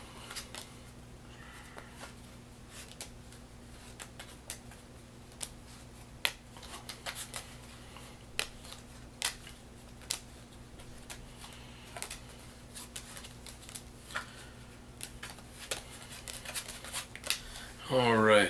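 Playing cards are dealt one by one into red and black piles, soft irregular ticks and flicks close by and quiet over a steady low hum, with a brisker shuffle at the very end.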